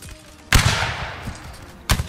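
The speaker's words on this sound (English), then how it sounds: "Should be able to get two more shots off. Fire now." Musket volleys crack out in the Napoleonic Wars game Mount and Blade, with one loud rolling burst of gunfire followed by a second sharp shot, no talk in between.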